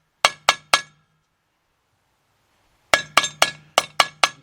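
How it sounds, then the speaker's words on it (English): Sharp metallic taps as a hammer drives a seal into a Chrysler Sebring timing cover: three quick strikes, a pause, then a faster run of about seven more, close and crisp with short ringing tails. "I'm going to tap this side to bring it down."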